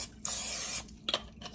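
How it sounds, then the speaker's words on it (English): Nonstick cooking spray hisses into a small prepared loaf pan in one steady blast lasting just over half a second, close and clear, followed by faint handling rustles. "Spray with nonstick spray."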